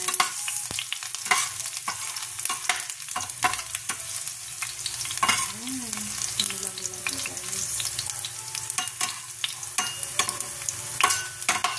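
Ingredients sizzle and fry steadily in a pan for a Filipino-style spaghetti sauce, with a continuous close hiss broken by frequent clinks and scrapes of a stirring utensil, and no talking.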